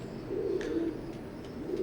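Teddy pigeons coo softly in a low, continuous murmur, a few faint higher chirps rising above it, with no voices.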